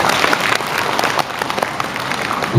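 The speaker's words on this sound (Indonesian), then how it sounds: "Tepuk tangan Bapak Ibu." Participants at an Indonesian teachers' gathering give a round of applause, dense steady clapping from a crowd filling the room, fairly loud and continuous with little talk.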